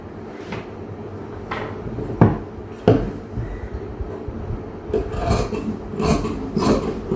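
Scissors snipping straight through blouse cloth while tailoring, a few sharp close cuts spaced apart and then a denser run of rasping snips toward the end, with no talking.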